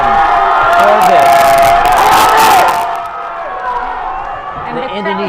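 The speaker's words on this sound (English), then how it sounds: "You can hear the crowd cheering him on for this." Crowd at a SEA Games jiu-jitsu semi-final between the Philippines and Indonesia cheers and shouts loudly for a few seconds, then dies down to a murmur as a commentator talks over it.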